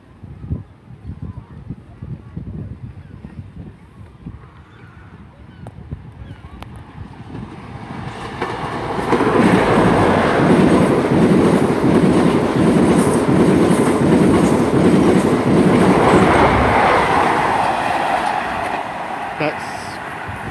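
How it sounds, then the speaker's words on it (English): A London Paddington to Penzance train with locomotive 43043 passing through Dawlish Warren, rising from a quiet approach into a loud sustained rumble and clatter of wagons for several seconds before easing off. "we've now got a pass from London Paddington to Penzance"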